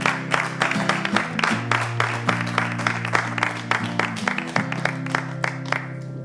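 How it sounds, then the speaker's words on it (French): An indoor audience claps in a dense, steady burst of applause over a sustained low musical tone that shifts pitch, and the clapping thins toward the end. "On l'applaudit"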